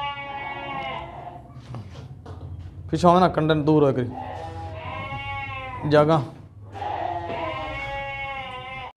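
At a livestock market, a castrated goat gives several loud, wavering bleats close by while someone talks between and around the calls.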